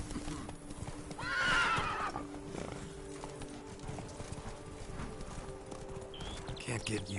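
Roach, a horse in The Witcher 3, gallops with steady hoofbeats and lets out a clear whinny early on, under ongoing spoken dialogue.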